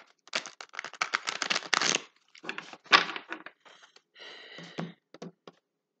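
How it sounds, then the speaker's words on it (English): Rapid papery riffling of a deck of cards being shuffled, several quick bursts separated by short pauses, close and fairly loud. "Just going to give this one more quick little shuffle."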